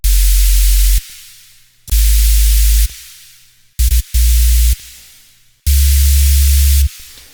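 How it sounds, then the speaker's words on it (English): Four loud bursts of deep sub bass topped with a hissing white-noise layer over chords, in an electronic dance music drop, each lasting about a second, separated by short silent gaps. "Sub bass with a layer of white noise on top of the chords."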